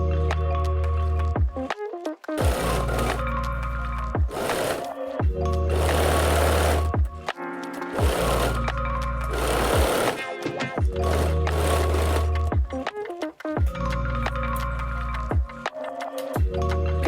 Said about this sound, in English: Now I'm going to sew it.